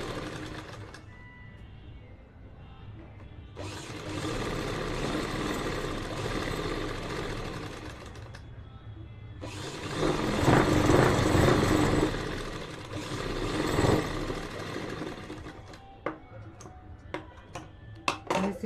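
A sewing machine stitching salwar fabric, running in two sustained bursts of whirring motor noise separated by a short pause, followed by a few sharp clicks and handling taps at the end.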